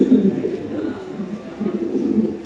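Pigeons coo in a low, continuous murmur at a bird market, soft rolling calls overlapping close by with faint background chatter.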